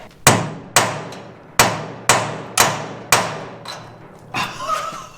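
A mini sledgehammer strikes a steel vehicle frame while knocking out kingpins, a steady series of six sharp, ringing blows with metallic decay, followed by scraping clatter.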